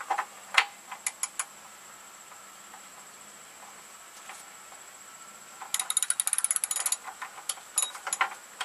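A ratchet tool tightens a bicycle bottom bracket, giving a few quick clicking bursts at first, a quiet pause, then a dense run of rapid ratcheting clicks near the end.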